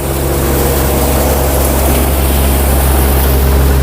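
A Mahindra 575 45 HP tractor drives a P-535 thresher working urad beans, a loud, steady, unbroken mechanical drone with a constant low hum throughout.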